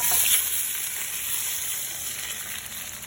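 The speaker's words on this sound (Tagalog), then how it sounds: "prituhin natin itong patatas at carrots" Potatoes and carrots frying in hot oil for chicken afritada, a loud, steady, close-up sizzle throughout with no talking.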